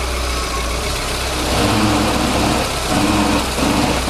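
A car engine idles steadily at close range during power steering cleaning, a constant low rumble with a slight rise in level partway through.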